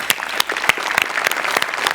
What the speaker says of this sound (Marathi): मस्त परफॉर्मन्स झाला, जोरदार टाळ्या यांच्यासाठी.